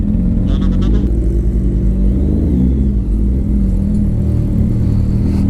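A traffic jam on a road entering Jaipur, heard from a superbike: a loud, steady low engine rumble and road noise with brief higher whirring, continuous throughout, no speech.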